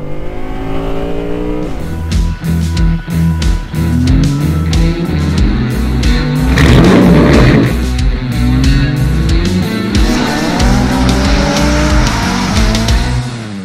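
Audi R8 V10 Performance Spyder, Carbon Black Edition, loud and close: the V10 revs hard through rising gear pulls, with sharp throttle blips and a sustained high-pitched engine roar as it drives.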